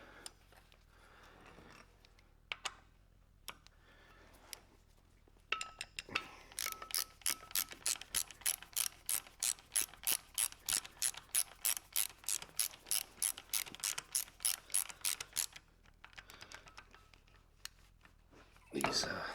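A socket ratchet clicks rapidly on bolts during disc brake work on a 1940 Chevy pickup, a long close run of sharp, even pawl clicks after scattered single ticks, with soft talk nearby.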